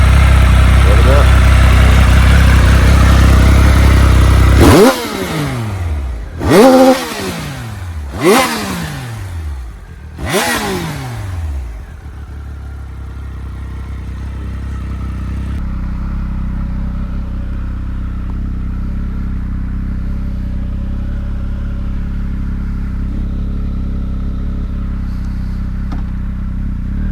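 A 2019 Triumph Speed Triple 1050 RS motorcycle idles loudly, then its engine is blipped in four sharp revs that each fall back quickly, before settling into a quieter, steady idle for the rest of the clip.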